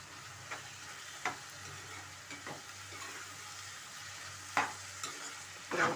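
Carrot fry with chilli powder being stirred in a pan: a steady low sizzle runs throughout, broken by a few scraping spoon strokes against the pan.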